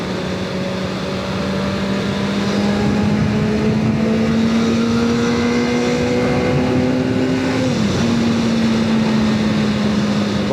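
A 1999 Suzuki SRAD 600 motorcycle pulls hard in third gear, its engine note climbing steadily and loud close by, then dipping briefly near the end before holding high again.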